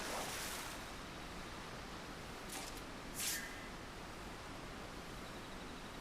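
A waterfall in Final Fantasy XIV rushes as a steady, broad wash of noise, faint and constant throughout, with a couple of brief brighter bursts.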